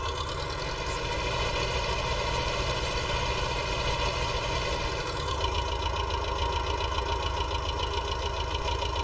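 A David Brown tractor engine idling steadily in a farming game, a low, even mechanical chug that holds close and constant throughout, with a slight shift in tone partway through and no talking.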